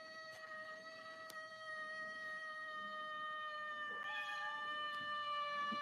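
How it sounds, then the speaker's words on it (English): A cat meows in several long, drawn-out, tonal cries, fairly faint and clear against a quiet background, with pitch shifting midway and no talking over it. "The cat. Meow."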